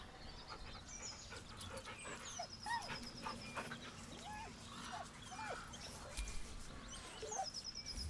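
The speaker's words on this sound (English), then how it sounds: "The dog whimpers nervously, as if to urge you on." A dog in the fantasy role-playing game Baldur's Gate 3 whimpers and pants softly, with short nervous whines repeating over several seconds, faint and close, set against a low ambient game background.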